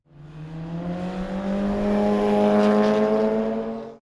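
A hot hatchback races hard on a circuit during an amateur ring-racing event. Its engine revs loud and close, building in pitch, then cuts off abruptly at the end.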